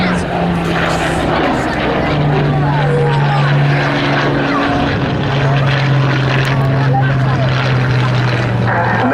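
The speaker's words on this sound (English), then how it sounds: "And this particular aircraft is in the colours of Flight Lieutenant Jimmy Whalen" Propeller-driven fixed-wing aircraft flying at an RAF airshow, its steady engine drone holding loud and continuous throughout with shifting pitch as it passes, while a commentator talks over it.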